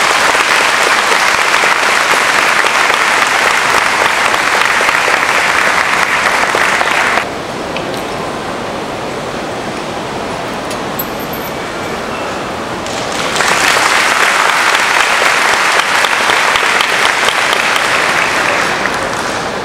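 Loud, dense applause fills a large graduation ceremony hall, dropping to a quieter patter midway before swelling back to full, sustained clapping.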